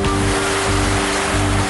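Floodwater surging around a stranded rhinoceros in a flooded Assam national park, a loud, steady broadband rush with a continuous low hum running underneath throughout.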